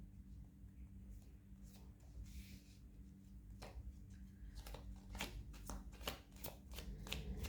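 Playing cards are shuffled close by, with soft handling at first and then a quick run of crisp riffling snaps toward the end.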